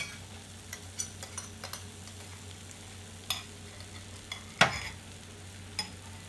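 Ghee going into a thickened kheer sandesh mixture in a pan, faint stirring scrapes and soft taps with a low sizzle, one sharp utensil clank midway, no one talking.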